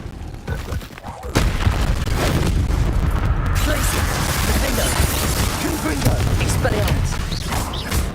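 A Bombarda spell in Hogwarts Legacy goes off as a loud, booming blast that rolls into a sustained, rumbling barrage of crashing debris.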